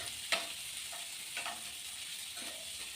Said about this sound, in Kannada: ಇವಾಗ ಈರುಳ್ಳಿನೂ ಸಹ ಫ್ರೈ ಮಾಡ್ಕೋತಾ ಇದ್ದೀನಿ.